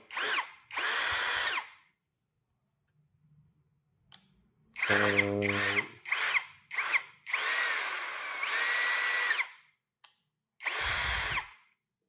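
A KEELAT KCD013 brushless cordless impact drill runs close up in several loud, whining bursts of a second or more, one with a rapid hammering judder, separated by silent pauses.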